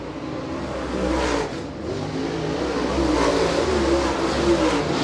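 A late model race car engine roars at Merritt Speedway, a loud, continuous growl that holds steady and swells slightly as the car runs past, with no voices.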